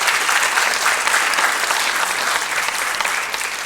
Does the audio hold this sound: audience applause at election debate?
yes